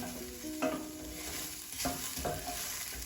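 Chopped onions sauté in a pan with added stock, a soft steady sizzle under a few quiet stirring scrapes of a utensil against the pan, close and fairly faint.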